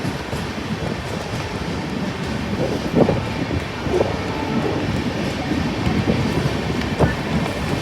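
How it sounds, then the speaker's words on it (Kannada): Two trains running side by side on adjacent railway tracks near Dharwad, a close, continuous rumble with scattered wheel clacks and knocks rising through it. "ನನಗೆ ಹಿಂಗೆ ಇವು 2 ಟ್ರೈನ್ ಆಜು ಬಾಜು ಟ್ರ್ಯಾಕ್ ಒಳಗೆ ಹೋಗೋದು ವಿಡಿಯೋ ಮಾಡೋದು ಭಾಳ ಇತ್ತು."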